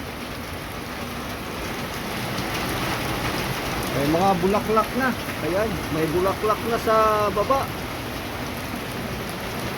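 Steady heavy rain hisses and pours throughout, with a person talking over it midway.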